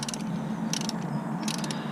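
A ratchet wrench loosens a bolt on the power steering pump of a Volvo XC70. Three short bursts of close, crisp clicking sit over a steady low hum in the workshop.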